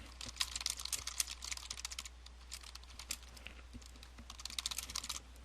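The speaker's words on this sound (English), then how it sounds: "So for our post name, we're going to type in a new title." A computer keyboard clatters close by as a post title is typed into a WordPress editor, with irregular bursts of quick, light keystrokes and short pauses between them over a steady low hum.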